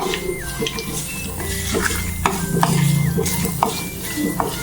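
Shallots, onion, green chillies and sliced coconut being sautéed in a pan for a spicy Kerala squid roast, with soft sizzling under repeated scraping and clinks of a utensil against the pan, close and moderately loud.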